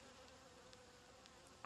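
Faint, soft buzzing of honey bees hums around a hive where they chase hive beetles, with a few brief louder wingbeat passes and a sharp click at the very end.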